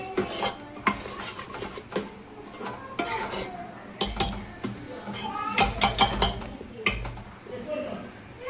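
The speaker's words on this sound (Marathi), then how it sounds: "आपण याला हलवत राहूया. पुन्हा खालीवर करत राहूया. मसाला चांगल्या प्रकारे परतायचा." Masala frying in oil in a pan while being stirred, with metal utensil scraping and clinking against the pan in irregular strokes, a voice speaking over it.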